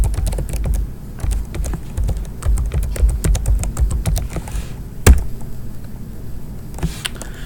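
Fingers type an email and password on a computer keyboard, a quick irregular run of close, crisp key clicks with short pauses and one louder thump near the end.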